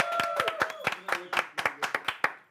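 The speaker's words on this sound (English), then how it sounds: "Can I get a round of applause for that?" A small studio audience gives scattered applause on a spring florals segment, about a dozen crisp separate claps in an uneven rhythm, close and fairly quiet, with faint tonal sounds underneath.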